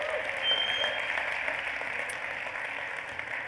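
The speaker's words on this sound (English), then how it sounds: "Quick round of applause for everybody so far." Audience at a startup accelerator expo in Armenia claps for presenters, a dense, even wash of applause that holds steady throughout, heard from amid the room.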